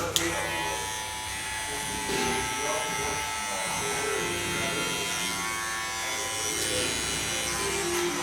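Electric hair clipper with a 0.5 guard and a number 1 comb cutting hair in a barbershop freestyle design, a steady close buzz running continuously with slight shifts as it moves, with faint voices behind.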